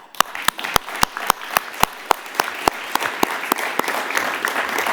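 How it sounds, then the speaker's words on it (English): A seminar audience applauds, starting with loud, evenly spaced claps that blend into a fuller round of clapping. "A big round of applause for women."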